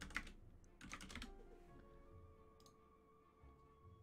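A computer keyboard gets a few quick bursts of key clicks near the start during an online game, then faint scattered taps over a low hum, all quiet and close, with no talking.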